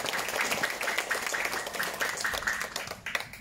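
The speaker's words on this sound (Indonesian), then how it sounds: "Beri tepuk tangan untuk Bapak Inggar." Crowd applause for an arriving official at a community gathering in Cengkareng Barat, steady clapping from many hands throughout, moderately distant and even.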